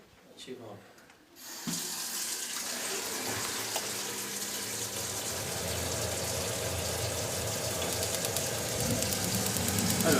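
A Baymak condensing combi boiler runs after maintenance, with a tap opened nearby: after a brief quiet start, a steady loud rush of flowing water and hum holds on, with faint voices.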